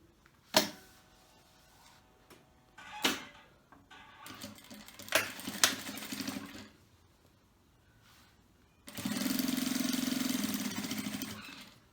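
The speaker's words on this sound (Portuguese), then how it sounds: "E vamos costurar ele aqui com margem de um pezinho de máquina," A sewing machine stitches a pocket seam on a bag a presser-foot width from the edge: a few sharp clicks and taps, then a steady, loud motor whir running for about three seconds at the end.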